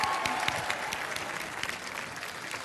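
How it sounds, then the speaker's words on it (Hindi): An awards show audience applauds a television actress, with sharp individual claps standing out at first before blending into a steady, moderately loud ovation that fades a little toward the end. "जोरदार तालियां हो जाएं इनके लिए"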